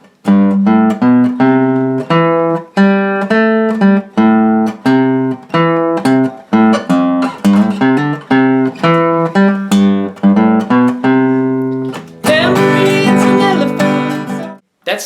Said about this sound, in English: There's a second guitar that enters halfway through the first solo.